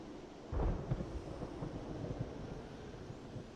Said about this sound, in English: Stormy night here, isn't it?